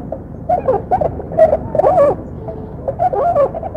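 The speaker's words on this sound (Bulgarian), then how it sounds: "Това е гласът на пойния лебед." A whooper swan gives a series of clear, bugling, trumpet-like calls in short bursts with brief pauses between them, heard alone outdoors.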